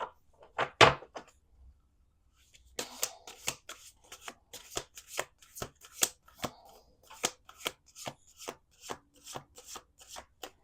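A deck of bird-themed oracle cards is shuffled by hand at close range: one sharp riffle, a pause, then a long run of quick, evenly spaced card slaps and flutters in a quiet room.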